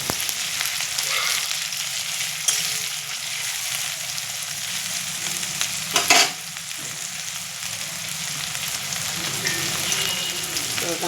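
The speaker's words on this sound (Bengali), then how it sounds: "পেঁয়াজটা দিয়ে দিলাম, কাঁচা লঙ্কাটা দিয়ে দিলাম কুচি করা।" Chopped onion and green chili fry in a pan with a steady, close crackling sizzle, broken by a brief clatter of stirring about midway; no one talks.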